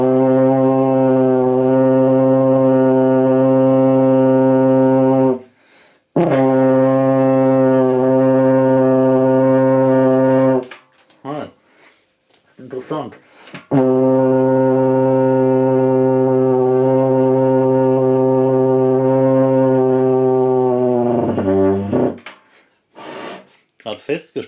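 A tenor horn played by a beginner sounds long, steady brass notes. Three sustained tones are separated by short gaps, then a wavering note fades out at the end, with a few breaths and small noises between the notes.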